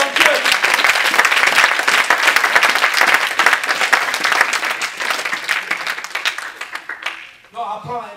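A church congregation bursts into loud, sustained applause and cheering for about seven seconds, then it thins out and a brief voice comes in near the end.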